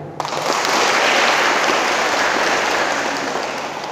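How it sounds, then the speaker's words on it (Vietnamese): Audience applause in a hall, a dense steady wash of many hands clapping that swells quickly and holds loud throughout, with no talking. "Trong tràng vỗ tay đi."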